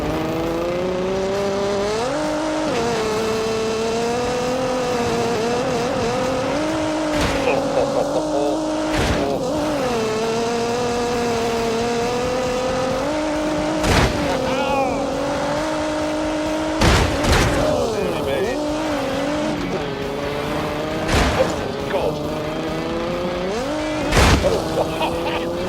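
Race car on a flying lap in The Grand Tour game, its engine droning and shifting pitch through corners, with sharp thumps and brief tyre squeals, a commentator's voice occasionally over it.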